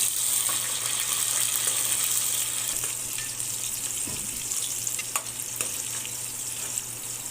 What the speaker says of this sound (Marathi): फोडणीकरिता आपल्याला कढीपत्ता कांदा आणि टोमॅटो यामध्ये परतवून घ्यायचा आहे